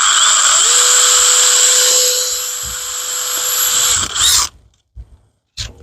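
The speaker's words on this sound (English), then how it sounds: "I'm using it on the hammer drill." A hammer drill drives a screw into a window frame with a loud, steady high whine for about four seconds, then stops, followed by a few short bursts and handling knocks.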